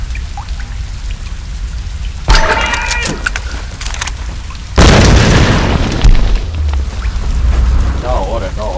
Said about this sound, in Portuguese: Lançador de granada.